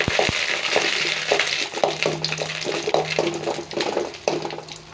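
Urad dal and curry leaves fry in hot oil in a home kitchen. The sizzle crackles and hisses steadily up close, with some clinks and stirring, and there is no talk.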